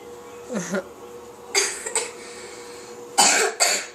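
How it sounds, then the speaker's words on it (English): Several short coughs, close by, in a loose sequence of three bursts with pauses between, against a quiet room background. "We have to start over because you coughed."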